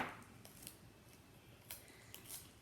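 Scissors cut the end of a strip of adhesive tape with a few quiet, close, crisp snips in a hushed room.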